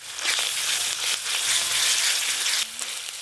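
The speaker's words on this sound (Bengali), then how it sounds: "আদা রসুন আর পেঁয়াজ বাটা ভালো করে ভাজা ভাজা হয়ে গেল" Onion, ginger and garlic paste frying in a pan, a close, steady sizzle and crackle throughout that softens briefly near the end.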